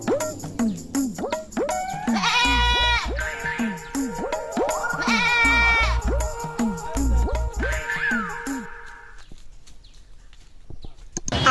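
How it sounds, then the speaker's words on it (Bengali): A goat bleats repeatedly, close and loud, in wavering cries that come in bursts over several seconds, with people talking and some clattering around it before it falls quiet. "চলেন ছাগলটা দেখে আসি।"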